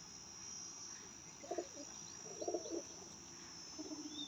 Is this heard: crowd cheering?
no